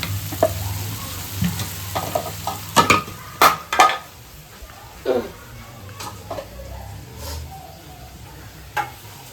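Squid fries in a pan as spices are stirred through, with a steady sizzle broken by several sharp scrapes and clatters of the spoon against the pan, close and fairly loud.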